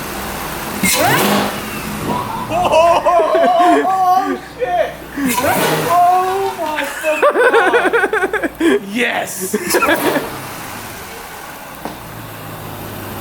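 Chevrolet Camaro ZL1 fitted with a Rotofab intake, revved hard in several loud bursts close by, with people talking and laughing between and over the blips.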